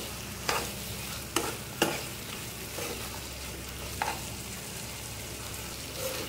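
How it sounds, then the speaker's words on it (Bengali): Mutton being stir-fried with spices in a pan, a steady low sizzle broken by a few sharp scraping stirs of the spatula, fairly quiet and with no talking. "প্রথমে একটু সামান্য মশলাটার সাথে মাংসটা কষিয়ে নেব।"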